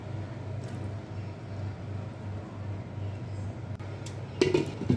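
Chicken being mixed in a cooking pot for biryani, with intermittent metal scraping and clinks of a utensil against the pot over a steady low hum, a louder clatter near the end.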